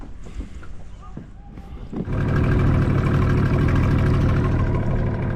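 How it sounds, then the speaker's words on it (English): A Yamaha two-stroke outboard engine on a sailing boat starts up after a few seconds of quieter sounds and then runs steadily, loud and close, with a dense buzzing drone. "Nothing beats the smoke of a two-stroke engine. I just love my Yamaha, as it's so reliable"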